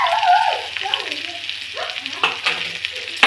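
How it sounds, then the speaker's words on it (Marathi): Chopped onion fries with green chillies in a pan for dal bhat, a continuous sizzle with soft stirring scrapes and a faint background voice. "कांदा थोडा शिजवून घेऊया आपण 1 मिनिट"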